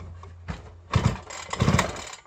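A small engine with high compression is pulled over by hand, with several heavy chuffing strokes and labored rattling turns, loud and close, and no speech.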